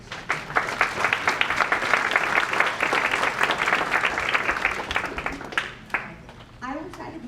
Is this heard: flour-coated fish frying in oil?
no